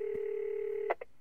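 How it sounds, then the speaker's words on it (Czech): Telephone number dialed in a children's cartoon: a steady dial tone holds, then a short quick burst of keypad tones at the end. "Jen zavolám Amně a Sule a řeknu jim, že nepřijdeme."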